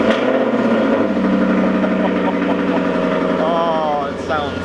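An Audi R8 engine runs on a cold day, a loud, close, steady idle rumble with a light rise in revs near the end, while someone speaks over it.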